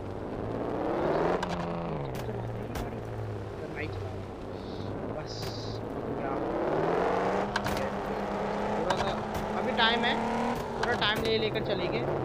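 Car engine revving and tyres squealing in a car parking video game, with rising and falling engine pitch and brief braking sounds over steady game audio, while people talk throughout.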